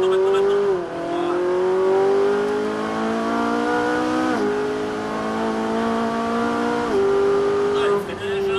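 Ferrari 458 Italia accelerating on a track circuit, a loud, close high-pitched engine wail climbing through the revs with quick upshifts dropping the pitch each time, the note rising steadily between changes.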